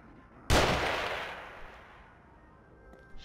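A single loud enemy gunshot blasts up close in the horror game The Evil Within, a sharp crack with a long fading echo, followed by quiet ambience and a faint click near the end.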